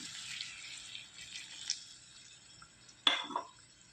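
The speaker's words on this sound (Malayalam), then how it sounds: "ഇനി ഒരു അര ഗ്ലാസ് വെള്ളവും കൂടി ഇതിലേക്ക് ചേർത്ത് കൊടുക്കാം" Half a glass of water poured into a spicy jackfruit-seed chilli curry gives a soft, steady splashing hiss, followed near the end by a short clink of a vessel or utensil.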